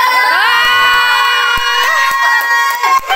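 Family members shout and cheer together at a home birthday celebration, with children's voices among them. The crowd noise stays loud and dense throughout, with short sharp bursts near the end.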